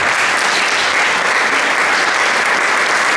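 A concert audience at the Ahoj prázdniny 2023 summer event gives loud, dense, sustained applause to welcome the children's ensemble Istropolitánček, a steady wall of clapping with no gaps.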